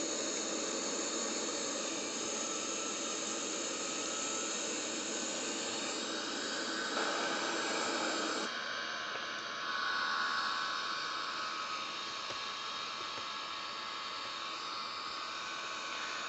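An Airbus A330 jet engine spools up on the ground with a steady, loud broadband roar and hiss that rises and shifts partway through, with no talking.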